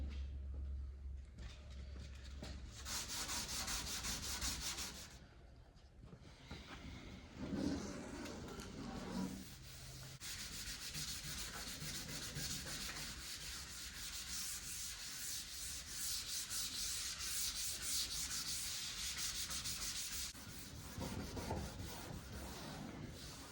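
Hand sanding of a car body panel with 320-grit sandpaper during spot priming: steady abrasive scrubbing strokes run almost continuously, fairly close, with a short pause and a few brief knocks partway through.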